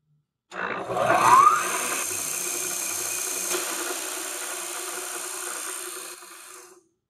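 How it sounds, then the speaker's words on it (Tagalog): A vertical milling machine with a defective, noisy bearing spins up and runs with a harsh, rough roar and grinding whine, then cuts off and winds down, close and loud with no talking. "Subukan naman natin ang isa pang vertical milling machine. Paanda rin natin at pakinggan kung normal ang andar niya o maingay na rin."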